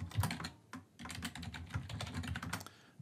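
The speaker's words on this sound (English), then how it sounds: "in the search bar, you want to type in business communication" Rapid, close clicking of keys on a computer keyboard as a search term is typed, in quick uneven bursts with a brief pause, and no voice over it.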